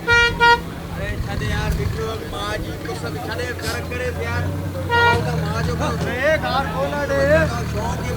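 A vehicle pulls up at the Malir Jokhia cattle market, horn tooting in short bursts near the start, engine and crowd noise running steadily beneath several people talking.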